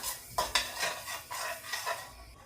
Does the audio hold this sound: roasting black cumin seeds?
yes